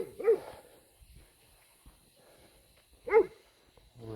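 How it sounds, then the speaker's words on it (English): A female Great Pyrenees gives two deep, single barks about three seconds apart, moderately loud and slightly distant outdoors, with quiet gaps and faint background sound between them. "that's our female Pyrenees that you hear barking"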